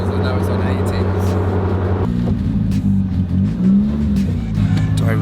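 A Nissan Silvia PS13 on 18-inch wheels cruises at about 70 km/h, its engine and road drone steady and close throughout, with the note shifting partway through. Someone talks over it.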